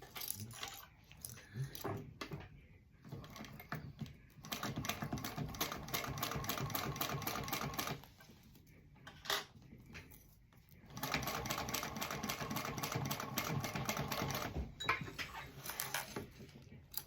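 A sewing machine stitches a zip in two long bursts of rapid, even mechanical whirring, with short pauses and small handling clicks between them, close and moderately loud.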